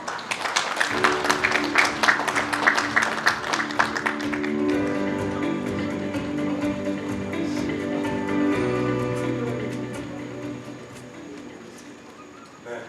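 An audience at the Haenam Hwawon industrial complex investment briefing claps to welcome a Daehan Shipbuilding planning director; dense clapping fills the first four seconds, then gives way to sustained tonal sound and room hum.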